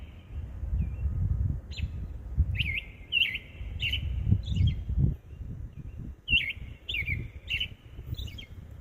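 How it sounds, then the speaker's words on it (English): A single bird chirps and calls in repeated short bursts of bright tweets, fairly close, over a low rumbling outdoor background at night. "I love this bird, y'all."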